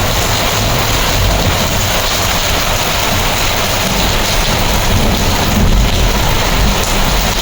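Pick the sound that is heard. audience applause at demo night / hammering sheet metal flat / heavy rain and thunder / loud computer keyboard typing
heavy rain and thunder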